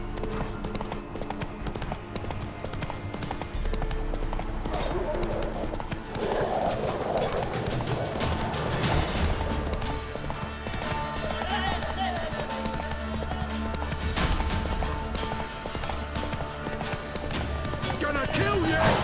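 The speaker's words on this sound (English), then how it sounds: "Whoa there, Roach" Hooves of the horse in the Witcher 3 video game pound in a rapid, steady gallop, close and continuous, under a voice and game sounds with occasional snorts.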